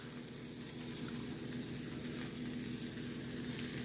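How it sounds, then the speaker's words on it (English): A tortilla sizzles in a pan for a Brussels sprouts quesadilla, a steady soft frying crackle that continues evenly without pause. "I won't make you sit here and watch a tortilla cooking."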